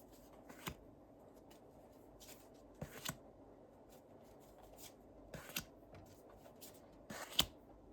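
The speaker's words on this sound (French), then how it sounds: "je vais remettre les cartes" Tarot cards shuffled by hand in a quiet room, with soft, brief riffling bursts spaced a few seconds apart.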